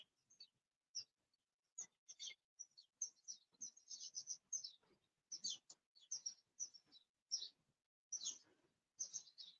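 Birds sing among trees and old terraced houses, a run of bright chirps and short tweeting phrases repeating at close range over a quiet background, with no talking.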